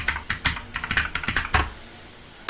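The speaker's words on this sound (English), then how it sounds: "Type my name." A computer keyboard clatters close and loud as a name is typed, with quick, uneven keystrokes for about a second and a half, then quiet, then one final tap.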